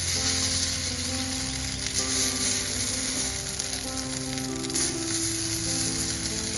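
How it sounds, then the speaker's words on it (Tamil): Dosa batter with potato and egg sizzles steadily on a hot pan, a loud, close, continuous frying crackle that holds evenly throughout with no talk. "நல்லா ஹீட் ஆயிருக்கு. ஸோ இப்போ என்ன பண்ணலாம்னா நம்மளோட தோசை ஊற்றிக்கலாம்."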